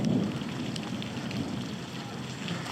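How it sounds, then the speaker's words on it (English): Heavy rain hammers down during a thunderstorm on a boat in a Scottish canal sea loch, a dense continuous patter close by with a low rumble underneath. "It is absolutely chucking it down. We are soaking. Don't know if you can hear the thunder rumbling, but it is loud."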